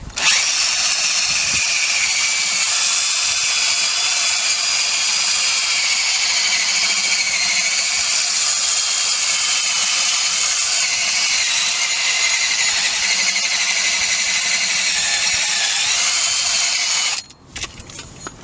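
A power tool grinds rust off a car's brake hub before the disc goes on, part of a DIY fix for steering wheel judder under braking; one loud, steady, high whine that cuts off near the end.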